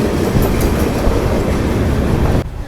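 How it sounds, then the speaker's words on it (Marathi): A Kolhapur–Mumbai special passenger train crosses in the Shindawane ghat near Pune, a loud close roar of rolling wheels and rattling carriages that cuts off abruptly at the end. "शिंदवाने घाटामध्ये क्रॉसिंग जबरदस्त।"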